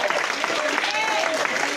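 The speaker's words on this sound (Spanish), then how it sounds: "Fuerte ese aplauso al Señor" A church congregation claps together during a sermon, a brief burst of dense, lively applause close by, with voices and cheering mixed in over the clapping.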